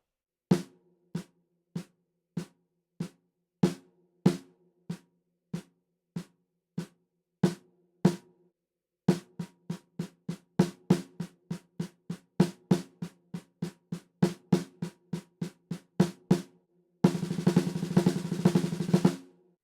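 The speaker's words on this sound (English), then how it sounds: "The 6-stroke roll is an excellent rudiment with many applications on the drum kit" A six-stroke roll rudiment played on a drum kit, with crisp single hits and grouped strokes in steady patterns that grow denser, ending in a fast sustained roll with no talking.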